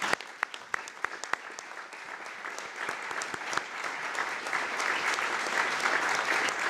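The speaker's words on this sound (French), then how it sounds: "Je crois qu'on peut conclure pour applaudir nos forces de l'ordre." At a security meeting in Reims, an audience applauds the police, opening with a few sharp separate claps that quickly swell into dense, sustained clapping that grows louder toward the end.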